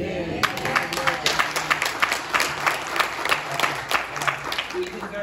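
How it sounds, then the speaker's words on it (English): A church congregation applauds during a sermon, a close, rhythmic run of hand claps with voices mixed in throughout. "He deserves that clap."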